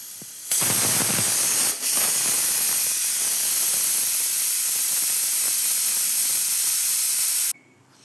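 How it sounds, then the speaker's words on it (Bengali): A pressure cooker on a low gas flame cooking Bengali dalia khichdi lets out a loud, steady hiss of escaping steam that runs for about seven seconds before cutting off abruptly. "এবারে প্রেসার কুকারের ঢাকনা দিয়ে গ্যাসের আঁচ খুব লোতে রেখে আমি 2 থেকে 3টি সিটি দিয়ে দেব।"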